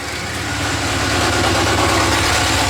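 A Ford Mustang with a swapped LS V8 idles loudly up close, a steady rough rumble that builds slightly over a few seconds with no talking.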